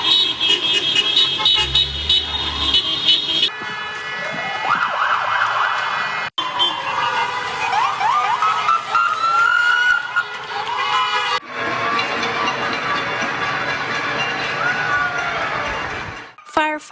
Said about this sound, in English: Firefighters, RCMP, and police are also joining the crowd by doing a parade and siren salutes around local hospitals